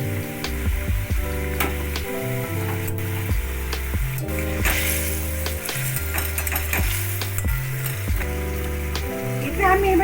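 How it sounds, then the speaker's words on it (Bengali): Fried taro pieces tumble into a hot pan and are stirred, a steady oily sizzle with scraping strokes running under louder melodic background music throughout. "এবারে দিলাম গাঁটি কচু ভাজা,"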